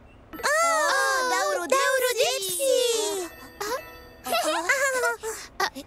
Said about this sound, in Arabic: يوما ما على أرض تيليتابيز كان هناك صوت جرس.